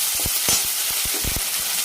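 Coconut and onion paste sautéing in oil for a spicy village-style dry mutton, a steady close sizzle broken by several short scraping stir strokes, with no voices.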